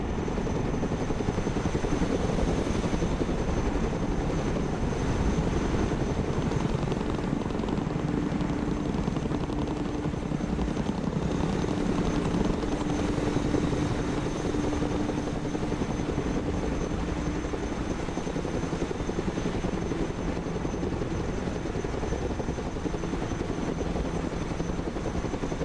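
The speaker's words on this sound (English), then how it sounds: "Let's go and recover it with our helicopter. Chinook." A Chinook heavy transport helicopter in the video game Broken Arrow, its rotors giving a steady, loud, continuous thrum that holds evenly throughout with no talk over it.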